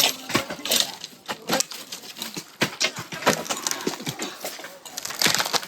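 Casuarina tree poles grown for a paper mill are cut with rapid, irregular sharp knocks and cracks of wood, close and distinct, with no speech.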